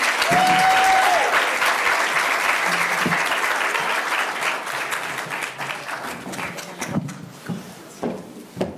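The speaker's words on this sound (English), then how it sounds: "So with a live round of applause, please help me welcome Dr. Marlene Bicondova." A live audience claps to welcome a speaker at a talk on school bullying, dense and loud at first, with a brief whistle-like tone early on, then thinning into scattered claps that fade toward the end.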